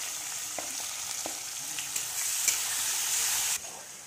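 Onion and tomato fry in a pan with a steady, close sizzle broken by a few light stirring scrapes, and no voices.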